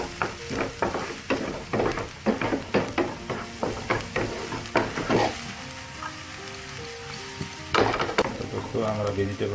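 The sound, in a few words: sautéing vegetables in a pan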